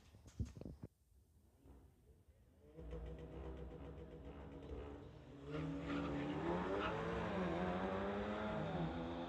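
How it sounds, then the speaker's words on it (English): A Volkswagen and an Audi race side by side down a drag strip on street tires. Engines rise from a distant rumble into a loud, sustained, revving roar as they accelerate past, with some tire noise. "Got a Volkswagen in the TCS lane going against the Audi in the Lordco lane."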